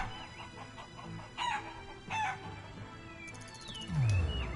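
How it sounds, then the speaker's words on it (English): Chickens cluck and squawk in Shenmue 3 during a chicken-flipping minigame, a few sharp bursts with a rising crow-like cry near the end, over quiet game sounds. "Flipping chickens."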